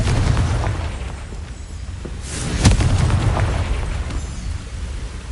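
A Confringo spell explodes in Hogwarts Legacy as one loud, sudden blast cuts through a steady, rumbling game backdrop before fading back into the ambient noise.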